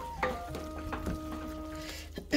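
Chili flakes being stirred into vegetables in a pan for vegetable kurma, a quiet, soft sizzle with a few scraping stirs, and a faint tonal hum underneath.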